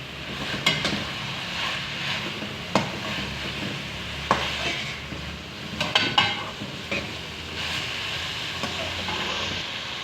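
Chicken and vegetables stirred in a pan with chili sauce and a tablespoon of vinegar, giving a steady soft sizzle broken by scattered scrapes and clinks of the utensil against the pan, close and moderately loud, with no talking.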